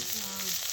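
Cumin and garlic fry in hot oil with a steady, close sizzle, brief and unbroken, with no voices.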